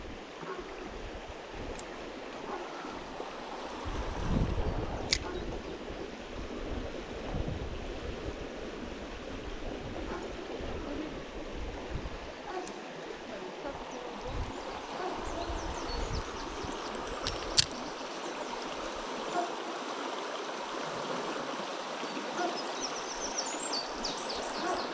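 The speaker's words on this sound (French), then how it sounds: "Qu'est-ce qu'elle est belle cette rivière à cette période là." A river flows with a constant soft rushing wash in the open air at the start of trout fishing season, faint and steady, with occasional light rustles and knocks nearby.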